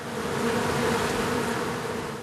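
Honey bees hum around their hives in a dense, continuous buzz, steady and fairly loud with no voices.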